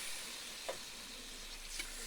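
Chicken fries in a little oil or ghee in a karahi, giving a soft, steady sizzle with a couple of faint stirring clicks; no voices.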